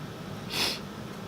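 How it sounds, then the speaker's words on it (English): A single short, close nasal sniff, a quick breathy burst of air through the nose from someone with the sniffles, heard over a quiet room. "I got the sniffles, sorry."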